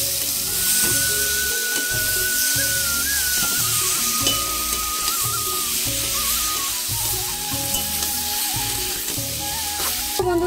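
Boiled elephant foot yam tipped into a hot pan, a loud continuous sizzle and frying hiss that keeps going with stirring noises, with no talk.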